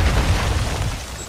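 Grenade blast in Call of Duty Modern Warfare 2, a single loud close boom with a dense rumbling burst that fades slightly over its short length.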